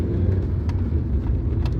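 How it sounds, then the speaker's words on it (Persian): A car being driven fast on the road gives a steady low engine rumble with road and wind noise, close and continuous, with no talking. "عرفان داره ماشین میرونه ببینیم امروز 280 میزنه یا نه"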